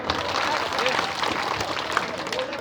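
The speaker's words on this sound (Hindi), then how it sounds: "एक बार जोरदार ताली हो जाए।" A crowd at an Anganwadi workers' strike rally in Araria district claps loudly and steadily throughout, dense applause mixed with voices and general hubbub.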